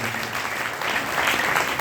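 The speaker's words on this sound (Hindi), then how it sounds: "एक बार म्यूजिशियन भैया के लिए, एक बार साउंड वाले भैया के लिए ताली हो जाए" Steady, dense audience applause at a Khatu Shyam kirtan, clapping evenly and without pause from start to finish.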